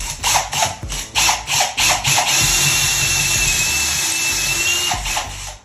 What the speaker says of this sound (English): I always like to drill a small pilot hole